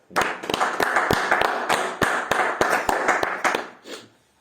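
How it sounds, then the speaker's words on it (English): A small group clapping a round of applause for footballer Karim Benzema during Champions League chat; a few close, uneven hand claps in a loose rhythm for about three seconds, fading out at the end. "can we please have a round of applause for Karim Benzema, please?"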